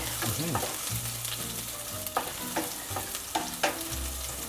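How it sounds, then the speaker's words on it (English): Garlic and ginger sizzle steadily in hot cooking oil in a pan while being stirred, with a few sharp utensil scrapes and knocks against the pan over the continuous frying hiss. "I'm adding my garlic and ginger. Smells so nice. And stir it nicely."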